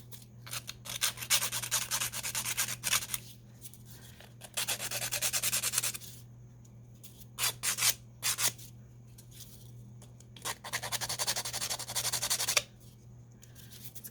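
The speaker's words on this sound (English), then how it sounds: "these nail files, I mean, they really are tough because they sand these down" Nail file sanding down a button embellishment, close rasping strokes in several bursts with quiet pauses between them.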